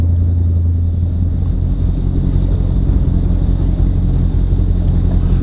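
An inboard-outboard motorboat engine drones steadily with a low, heavy rumble, mixed with wind buffeting the microphone, constant and loud throughout.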